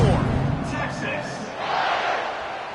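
A stadium crowd at a Texas football game keeps up a loud, steady, roaring buzz, with a voice talking over it.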